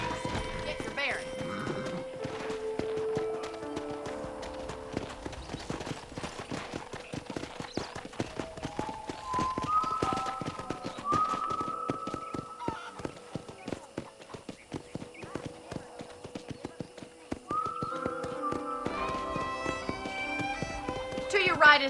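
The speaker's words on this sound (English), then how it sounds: "I picked out a fine horse for you." Horse hooves clip-clop steadily at a walking pace in the Xbox 360 game Red Dead Redemption, a continuous rhythmic patter lasting the whole stretch, with a neigh and game dialogue and music heard alongside.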